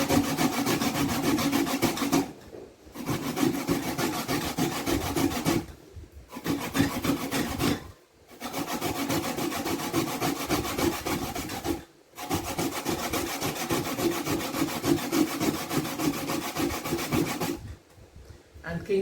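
A sweet potato is rubbed against a dull grater in repeated rasping strokes, with steady scraping runs broken by several brief pauses, close and moderately loud.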